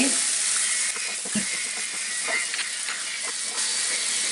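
Small shrimp fry with turmeric in a pan, making a loud, continuous hissing sizzle with faint clinks of stirring throughout.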